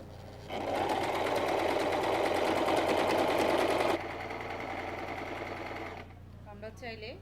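A sewing machine stitching a salwar runs in a fast, steady whir for several seconds, changes pitch partway through, then stops, and a voice speaks briefly.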